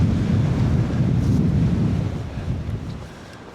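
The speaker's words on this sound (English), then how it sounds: "Well, that wind is bitter" Bitter cold wind on the fell Red Pike buffets the microphone in a dense, low rumble, loudest at first and easing slightly toward the end, with no talking.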